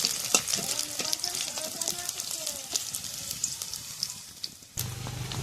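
Chopped onion sizzles steadily in hot oil in a pan over a wood-fired clay stove, the start of a live puti fish curry; the loud, crackling fry runs continuously, then briefly drops away before a low hum takes over.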